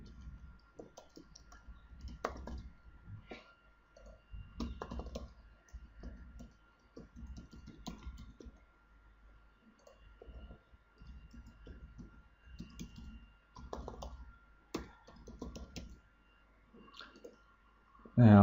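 Soft, irregular clicking of computer keyboard keys as a name, email and comment are typed, quiet and close, in short uneven bursts with pauses, no voices.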